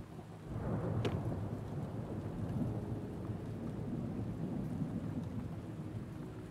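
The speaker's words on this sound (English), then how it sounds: "I do like the sound of rain, but maybe not in this game right now." Steady rain pours throughout in the video game Two Point Hospital, with a low rumble of thunder rolling underneath, continuous and fairly soft.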